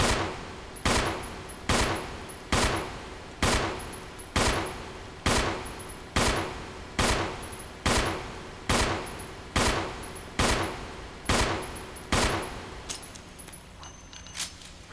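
Gunfire in the video game Resident Evil HD Remaster, about fifteen evenly spaced sharp handgun shots, roughly one per second, each with a short decaying tail, loud and alone.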